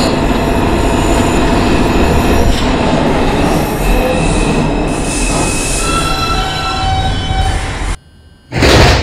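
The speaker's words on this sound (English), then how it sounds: "This is a Manhattan-bound 2 train." A Manhattan-bound 2 subway train rumbles loudly and continuously along the rails, with metallic wheel squeal and a brief dip in noise near the end.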